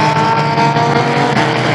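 Pure stock race cars roar loudly and continuously around an oval track during a feature race as the 71 car slides sideways, its engine drone and tire noise close and unbroken.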